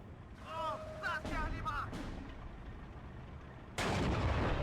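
Su-85 tank gun firing in the WWII strategy game Steel Division 2: one abrupt, loud blast near the end that follows quieter battlefield noise, and a voice talks just before it.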